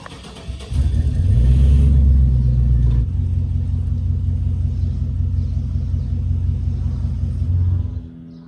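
A car backing up slowly inside a home garage onto a four-post lift: the engine starts with a deep rumble, swells briefly, then holds a steady low idle before cutting off, close and loud, with no speech.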